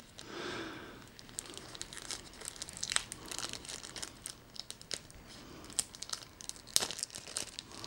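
Plastic bag crinkling and rustling in close, irregular bursts while small accessories for HAVIT I95 wireless sport earbuds are unpacked; no talking.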